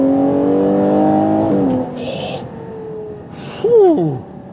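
A Ferrari Purosangue SUV engine pulls hard with a loud, rich multi-tone roar that shifts pitch, then drops to a quieter rush with brief whooshes and a short rising sweep.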